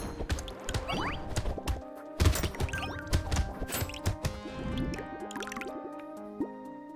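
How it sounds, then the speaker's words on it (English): Quick item pickups in the video game Brotato, a rapid scatter of short, bright droplet-like plinks over busy game music and combat effects, moderately loud throughout. "The pickups kind of sound like water droplets."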